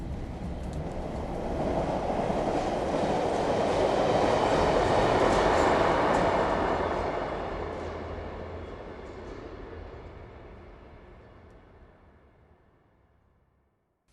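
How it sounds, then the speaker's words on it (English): A London Underground Circle Line train runs past, its broad rumble building to a loud peak midway and then fading steadily into the distance, with no voices. "This is a Circle Line train via High Street, Kensington and Paddington."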